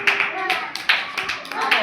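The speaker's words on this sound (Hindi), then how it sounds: "ताली बजाओ।" Children clap their hands together in a classroom, several quick bursts of clapping rising and falling across a short stretch, with a teacher's voice speaking around the applause.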